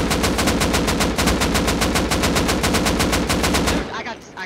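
Sustained rapid automatic gunfire in the video game Rust, a loud continuous burst of evenly spaced shots that cuts off near the end, leaving quieter ambient game noise.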